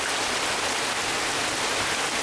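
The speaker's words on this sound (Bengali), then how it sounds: "টিনের চালে বৃষ্টি পড়ার যে আওয়াজটা, কিন্তু খুবই ভালো লাগে, মানে ঘুমও ভালো হয় এই আওয়াজে।" Heavy rain drums on a tin roof, a dense, unbroken roar of falling water heard close and loud throughout.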